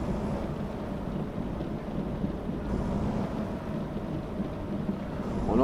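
Rain in the trucking video game American Truck Simulator, a steady hiss and low rumble that stays constant throughout and swells slightly at the very end, with no talk.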